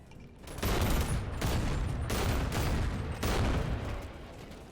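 Gunfire in the VR game Bonelab: a rapid burst of full-auto shots, then several more long sustained bursts with short gaps, loud and close, no voices.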